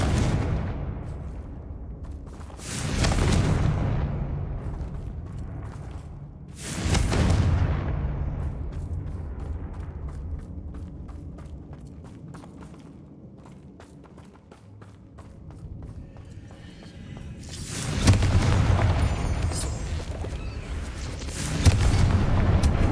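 Confringo fire spell explosions in the Hogwarts Legacy video game, several loud booming blasts with long rumbling tails, spaced a few seconds apart over quieter game ambience.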